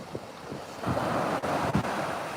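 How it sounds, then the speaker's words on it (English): Ocean waves washing onto a beach where someone stands barefoot at the water's edge, a steady surf rush with wind buffeting the microphone, no talk. "can you hear those waves?"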